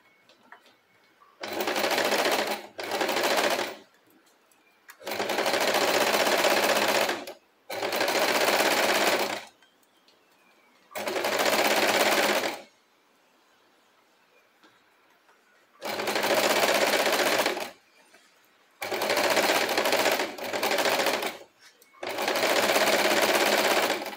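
A sewing machine stitches fabric in repeated close, loud bursts of a few seconds each, separated by short pauses while the needle stays down in the cloth.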